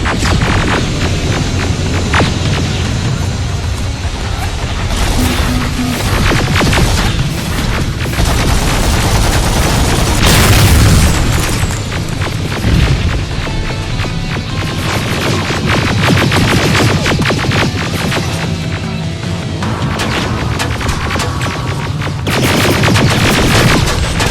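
Sustained gunfire and booming explosions fill a battle in the video game Terminator Resistance, rapid bursts and heavy impacts layered into a loud, dense cacophony for the entire stretch.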